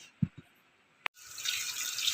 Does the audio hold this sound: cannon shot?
no